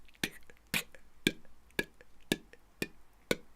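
A metronome click track plays through two speakers with the delay of the nearer speaker raised, giving seven evenly spaced sharp ticks about half a second apart, quiet and alone in a studio.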